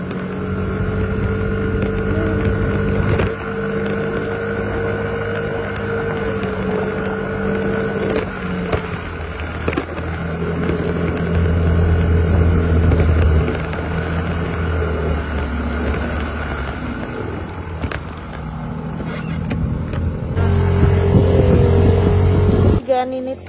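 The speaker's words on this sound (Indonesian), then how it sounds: "Sendirian naik motor." A motorcycle ridden solo up narrow lanes toward the Mount Ungaran base camp via Perantunan, its engine droning loud and close with shifting revs, talk and road noise mixed in.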